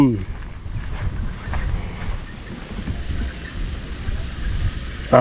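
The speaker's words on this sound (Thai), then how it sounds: "ลมไปฝั่งนู้นนี่ว่า ลมเปลี่ยนทิศครับท่านผู้ชม" Wind blows steadily outdoors in a forest clearing on a hot afternoon during a wau bulan kite flight, buffeting the microphone with a rushing roar that swells and eases throughout.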